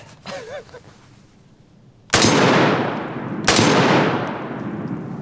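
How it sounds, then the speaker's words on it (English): Two loud, concussive .308 rifle shots about 1.4 seconds apart, each a sharp blast with a long ringing decay, fired at a steel target outdoors; a faint whistle-like sound comes just before the first shot. "Look at that 308. Hit the steel target."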